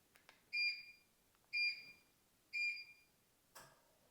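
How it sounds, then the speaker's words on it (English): A DeerRun Q2 walking pad gives three loud, evenly spaced electronic beeps about a second apart, followed by a softer, shorter blip, in an otherwise quiet room. "Every time you change the speed or just start the pad, it beeps loud."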